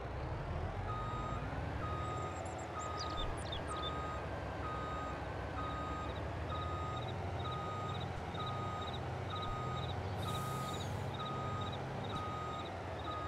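Tractor reversing in Farming Simulator 22, a steady series of evenly spaced electronic beeps over a continuous engine drone, with a brief higher squeal partway through.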